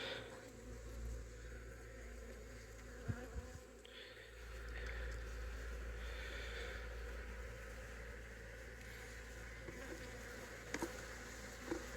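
Dense, steady buzzing of many honeybees around a hive fills the air, a continuous drone with occasional louder passes close by and faint clicks.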